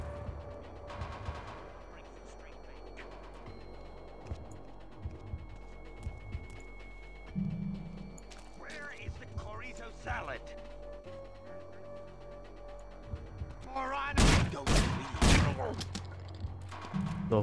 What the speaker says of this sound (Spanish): Dos balazos para matarlo.